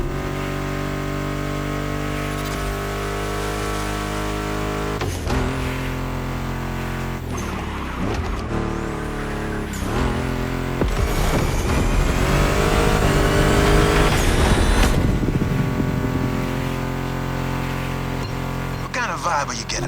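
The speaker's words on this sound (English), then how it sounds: "Meshes well with the sound of the engines" Muscle car engines, including a Mustang GT, rev and roar in the video game The Crew Motorfest, with accelerating whines and tire squeals over a steady music track, loud and continuous throughout.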